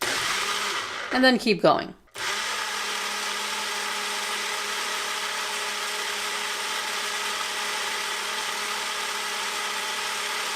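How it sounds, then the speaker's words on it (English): A Ninja Fit personal blender runs loud and steady after a brief burst of speech, its motor whirring in a continuous, even drone with no pauses through the rest of the clip. "You can also pulse. Just push down, wait for the blades to stop,"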